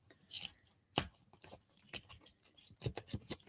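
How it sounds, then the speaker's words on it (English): Quick papery flicks and soft riffling taps of tarot cards being shuffled by hand, close up, in irregular bursts with no talking. "So I am trying to shuffle these as best as I can."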